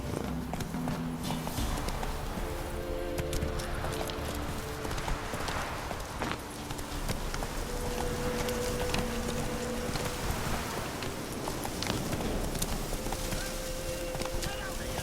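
A horse gallops in The Witcher 3, its hooves a steady, fast clip-clop close by, with music beneath and brief bits of talk.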